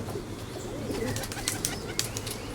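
Pigeons coo softly nearby, with a few sharp flutters and clicks of wings amid quiet background noise.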